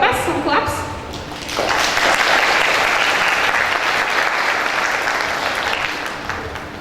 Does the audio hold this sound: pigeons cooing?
no